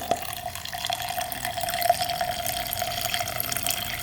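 Gasoline flows from a new petcock on a 250cc dirt bike, a steady soft trickling and splashing with a faint drip, heard close and alone.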